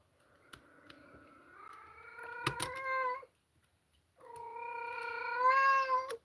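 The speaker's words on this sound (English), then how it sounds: "And there's my cat." A house cat nearby lets out two long, drawn-out meows separated by a short pause, with a few light clicks and taps around them.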